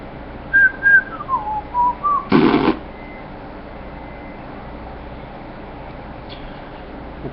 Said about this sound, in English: Weird whistle.